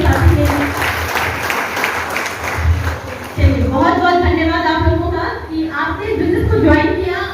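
Audience applause at a training session in a Patna venue, with clapping that fades in and out and a voice talking over much of it.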